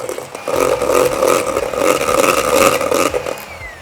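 Shortening, rice bran oil and butter are beaten together for frosting by an electric mixer, a steady loud whirring drone with slight rises and dips, close by.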